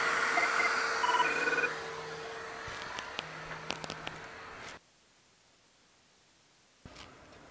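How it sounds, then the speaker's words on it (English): A telephone rings in a room during an Xbox Series X no-power repair, sounding repeatedly over steady background noise before cutting to near silence. "I will answer the phone"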